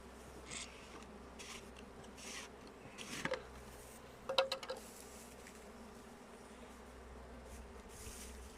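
Faint, soft buzzing of honeybees at a hive during winter maintenance hovers in the background, with a few closer buzzing passes drifting by; quiet and steady, no voices.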